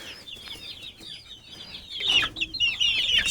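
Young chickens and cockerels cluck and chirp in a backyard flock, a busy run of overlapping calls that grows louder and denser toward the end.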